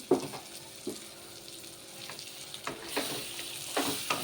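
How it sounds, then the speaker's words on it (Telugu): Stuffed bitter gourd fry with masala stirred in a pan makes a soft, continuous frying crackle punctuated by scraping strokes of the spoon, growing busier toward the end. "మసాలా ఇది కూడా దీంట్లో వేసేస్తున్నాను వేసేసి కలుపుతాను"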